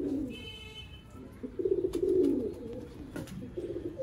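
Pigeons in a breeding loft in Sialkot, Pakistan, give soft, close, rhythmic coos in short bursts over a quiet background with faint chirps.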